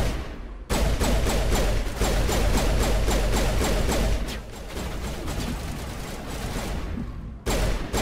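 Rapid bursts of gunfire in the video game Mass Effect 1, dense and loud, crackling steadily for several seconds with brief gaps, no talk over it.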